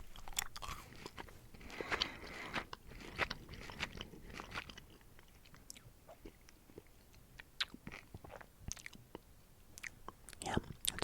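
Chewy fruity gummy candies are eaten up close for ASMR, including a watermelon slice. Soft wet chewing and biting come in irregular bursts, with faint mouth clicks and a few whispered sounds between them.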